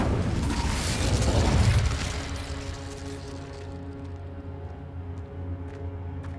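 An Incendio fire spell in Hogwarts Legacy bursts with a loud whooshing roar for about two seconds, then fades into a steady mechanical hum.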